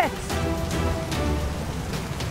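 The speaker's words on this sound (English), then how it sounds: "No! Acid rain? This is crazy! We gotta go inside!" Pretend acid rain in a children's play game comes as a close, continuous patter of falling rain with a few brighter splashy bursts, heard alone.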